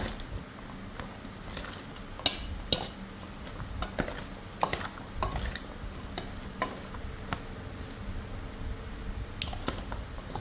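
Kinilaw, a raw fish dish, gets stirred in a bowl, giving soft wet squishes and scattered sharp clicks and taps of a utensil against the dish, close and fairly quiet.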